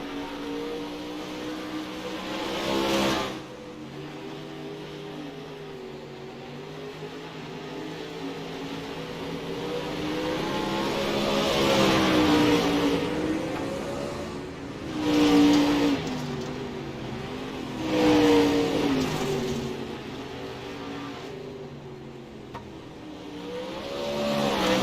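Race cars on the final lap of a dirt track heat race at the Pennsylvania Showdown, engines droning and rising and falling as they pass, with several louder surges of revving over a continuous roar of the field.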